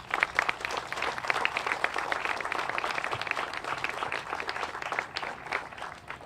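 A crowd at a groundbreaking ceremony applauds warmly, a dense, continuous wash of many hands clapping that holds steady throughout with no voices breaking through.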